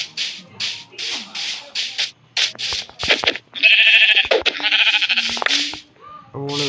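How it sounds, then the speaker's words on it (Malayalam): Sheep in the video game Minecraft give several short, clear bleats in quick succession, close and fairly loud, following a stretch of soft game sounds and shuffling. "ഇവിടെ കുറേ ആടുകളുണ്ട്."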